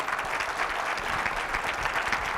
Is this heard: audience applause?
yes